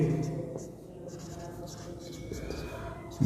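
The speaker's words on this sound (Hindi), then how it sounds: "तो मैं इसमें लिखता हूं" Chalk or marker scratches across a classroom board during a Hindi-medium geometry lesson, with soft, close strokes and a low voice faintly audible underneath.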